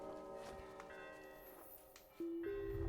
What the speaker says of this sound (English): So the bell kind of scares away the bird and lets us escape.